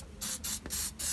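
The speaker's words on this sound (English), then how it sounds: "I'm going to be covering them again in AC90." Short bursts of ACF-50 anti-corrosion aerosol spray onto cylinder head bolts of a Yamaha Aerox scooter top end: three close hissing sprays with brief gaps between them.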